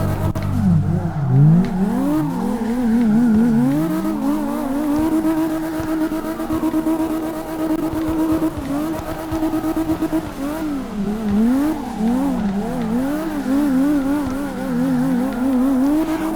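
A BMW E34 M5 with a 900 hp engine drifts in CarX Drift Racing Online, its engine wailing and swooping through repeated rev rises and falls with tire squeal, loud and continuous throughout.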